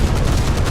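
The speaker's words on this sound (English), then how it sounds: "Let's do a broadside." Broadside of ship guns firing in a naval video game, a short, loud, heavy boom with deep rumbling low end that fills the whole moment.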